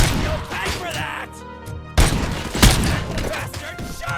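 Gunfire in the first-person shooter RoboCop: Rogue City, with bursts of sharp reports and a heavy boom cutting through a dense game soundtrack. Short shouts can be heard between the shots.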